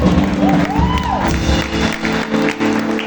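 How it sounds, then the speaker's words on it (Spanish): A church congregation claps in offering to the Lord, a steady wash of hands with a few cheers over a sustained background tone, fairly loud and continuous. "Dale una ofrenda de palmas al Señor"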